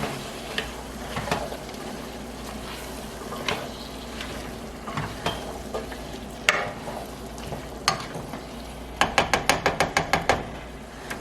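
Potatoes and meat are stirred in a pot with a spoon, giving irregular scraping knocks followed by a quick run of rhythmic clinks near the end, close and fairly loud.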